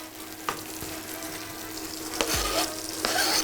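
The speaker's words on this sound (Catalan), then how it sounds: "anem a deixar que se fregisque" Tempura frying in hot oil gives a steady close sizzle with occasional crackles and pops, with no talking.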